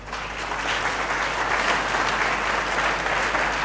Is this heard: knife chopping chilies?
no